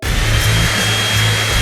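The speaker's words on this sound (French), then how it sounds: "il suffit de le souffler avec une sèche-cheveux" A hair dryer blows continuously, close and loud, giving a steady whooshing roar with a faint whine running through it and no talking over it.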